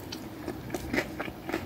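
Crunchy bites into fried Zaxby's chicken tenders, several close crackling chomps spaced in an uneven rhythm.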